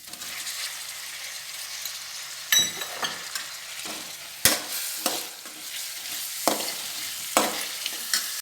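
Tomatoes go into a pan of browned onions, and loud steady frying and sizzling continues throughout, with several sharp scraping stirs of a spoon against the pan; nobody speaks.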